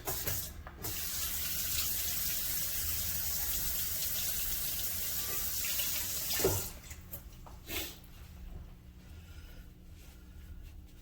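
A kitchen tap runs steadily for about six seconds as hands are washed at the sink, then the water stops and a couple of soft clunks and handling sounds follow in a quieter room.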